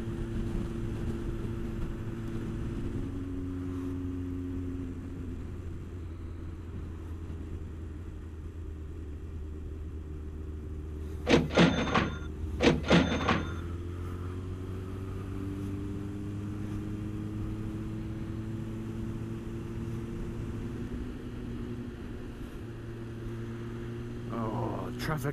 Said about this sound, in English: Oh, traffic is so maddening.